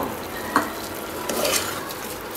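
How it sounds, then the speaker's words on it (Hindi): Rice for green peas pulao, normal rather than long-grain, being stirred and fried in a pan, with a steady close sizzle, a couple of spoon scrapes and a sharp clink at the end. "अच्छी तरह से मिक्स कर लेते हैं एक दो मिनट ऐसे ही फ्राई होने देती हूँ"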